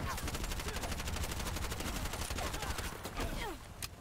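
Rapid automatic gunfire from hip-fired weapons during a video game boss fight, a dense continuous burst of shots that breaks off near the end.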